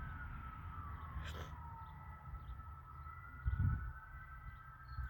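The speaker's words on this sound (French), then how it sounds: "C'est rare d'entendre les sirènes." Emergency vehicle sirens wail with a steady rising and falling tone, heard from a distance over a low outdoor rumble, with a brief thump partway through.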